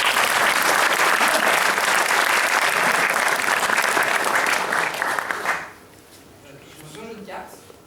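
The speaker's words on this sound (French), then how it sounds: "un maximum d'applaudissements pour Hélène!" Loud, dense audience applause at a French comedy-magic show for a volunteer named Hélène, sustained for over five seconds before stopping abruptly, after which a voice speaks quietly.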